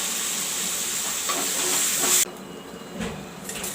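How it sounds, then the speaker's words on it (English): Masala paste with chili powder sizzles and spits steadily in a hot pan for a fish curry cooked with tamarind juice, a loud continuous hiss that drops off abruptly partway, then softer stirring noises, with no talking. "the masala is frying"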